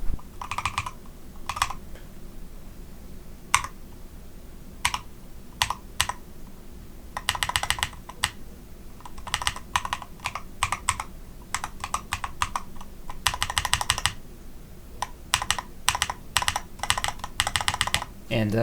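Steady clacking of a mechanical keyboard, bursts of quick keystrokes separated by short pauses, close and clear with no voices.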